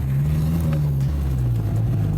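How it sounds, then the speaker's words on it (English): A car engine drones steadily and loudly close by on a quiet neighborhood street, its low tone shifting slightly as the vehicle approaches, with no talking. "There's a car coming."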